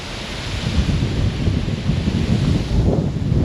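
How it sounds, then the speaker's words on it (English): Strong wind at an urban riverside buffets the microphone, producing loud, continuous low rumbling and roaring gusts with no let-up and no speech. "The frickin' wind is getting crazy."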